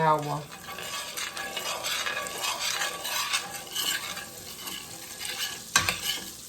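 A teaspoon of butter frying in a skillet for shrimp, a soft continuous sizzle with utensil scraping and a sharp clink near the end, close but fairly quiet.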